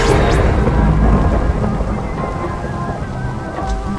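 Lightning strikes with a loud, close crack of thunder in a video game while mushrooms are being bred. A rumbling roll and the steady hiss of rain follow and continue throughout.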